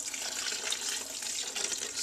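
Cold coffee is poured from a cup into a blender, a short, steady splashing trickle of liquid heard up close and quietly, with no voices.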